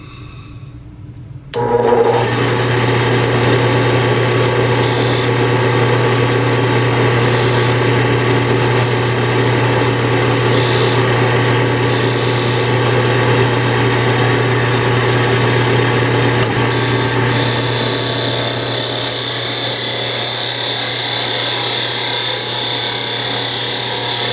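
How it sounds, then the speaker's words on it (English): A wood lathe spins a wooden honey dipper as a thin parting chisel cuts grooves into it, a loud steady motor whine with scraping that starts abruptly and runs continuously without a break. "that's where we will cut the grooves with our thin parting chisel"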